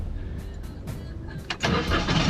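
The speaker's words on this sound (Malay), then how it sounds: "Start lah enjin dulu boh." A first-generation Perodua Axia engine cranks briefly and fires up partway through, settling into a steady, close idle.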